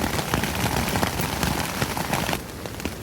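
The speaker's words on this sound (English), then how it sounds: "the rain doesn't sound as intense anymore. I mean, it's still coming down hard" Heavy rain pounds a tent during a thunderstorm with sleet and hail, a dense, steady roar of drumming drops that eases slightly near the end.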